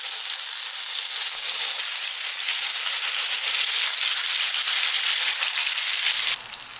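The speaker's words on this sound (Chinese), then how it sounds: "接下来我们来煎鱼豆腐。 油热之后，把豆腐一块一块给下入锅中。" Fish tofu coated in a thin layer of starch sizzles steadily in hot oil in a pan, a loud, even frying hiss that stays constant for several seconds and then drops off abruptly near the end.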